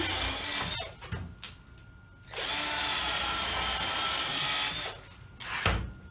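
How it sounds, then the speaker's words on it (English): A power drill whirs steadily through a hole in the waste end of a wood straight-edge jig, its high grinding motor sound running for several seconds between brief stops and bumps. "Drill a hole in the waste wood on the end."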